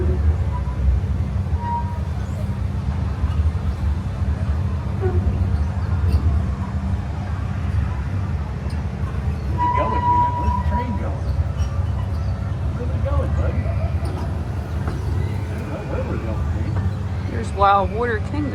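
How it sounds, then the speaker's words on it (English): Cedar Creek Cannonball amusement park train ride rolling slowly, a steady low rumble and clatter running throughout beneath people talking. "Oh no, you can definitely outwalk this train."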